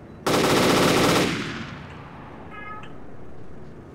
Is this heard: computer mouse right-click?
no